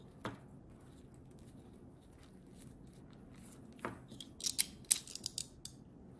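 Scissors cutting paper rope while a handmade paper-rope bag is being made, quiet at first and then a close cluster of crisp snips and rustles toward the end, no voices.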